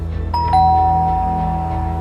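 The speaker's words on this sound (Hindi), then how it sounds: "दरवाजे की घंटी बजी।" An electronic doorbell in a home at night gives two clear chimes, the second ringing out and fading over a low steady background hum.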